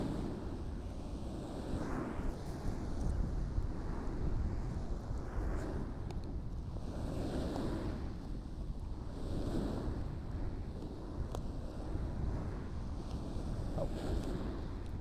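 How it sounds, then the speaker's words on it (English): Wind buffets the microphone on a beach at Winchelsea in heavy, rumbling gusts that surge and ease every couple of seconds, with faint surf behind. "a bit windy."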